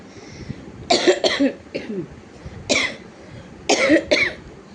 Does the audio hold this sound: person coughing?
yes